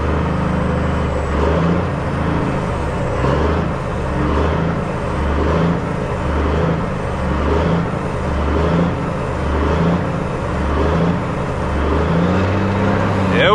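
A Caterpillar C15 diesel engine idling and surging with throttle blips, a loud, near, pulsing low rumble that swells and eases in repeated waves, with someone talking over it.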